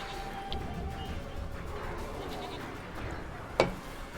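A goat bleats in The Witcher 3 video game, a faint, brief cry near the end over a low steady game ambience, with a few soft earlier bleats barely rising from the background.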